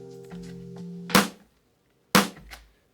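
Drum beat programmed in Ableton, with layered snare and clap hits: two sharp, loud cracks about a second apart over a brief low tonal backing, each decaying quickly into silence.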